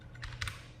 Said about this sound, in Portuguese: E eu vou digitar aqui